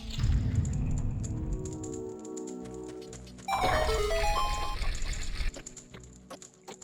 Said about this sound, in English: And that was the sound of my phone.